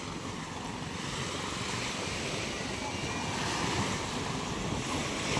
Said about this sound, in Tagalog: kaya lalaki ng alon